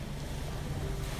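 Ocean waves surging near a ramp, a continuous broadband wash of surf with wind rumble, steady and fairly close, with no voices.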